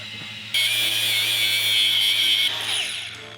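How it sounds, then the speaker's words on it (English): A power drill cuts a slot into a flat metal bar for a throttle cable, starting after a brief quiet moment and then whining steadily and loudly for about three seconds, close by. "we're just going to drill and put a slot in it so I can slip the throttle cable in on top"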